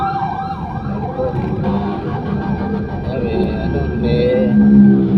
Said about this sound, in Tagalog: Ating mga bumbero may responde sa umagang ito.